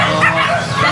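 A two-month-old Husky Labrador cross puppy gives short yipping barks close by, nearly continuous across a brief, fairly loud burst.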